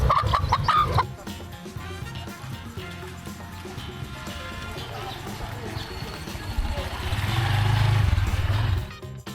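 A chicken clucks on a busy street in Indonesia, its bright calls most prominent at the start, then fading under street bustle, voices and a rising low rumble.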